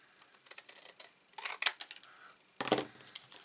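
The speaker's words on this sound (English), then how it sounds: "And then I'm going to snip up." Scissors snip paper for a Christmas advent calendar craft, giving a run of small crisp cuts that builds to a cluster of sharper, louder snips near the end.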